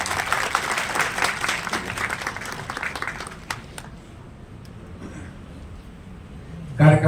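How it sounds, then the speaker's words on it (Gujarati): An audience applauds a minister arriving at a Gujarat teachers' federation event in Gandhinagar, a dense wash of clapping for about four seconds that thins and fades, leaving a quiet room. "ખૂબ તાળીઓથી આવકારીએ."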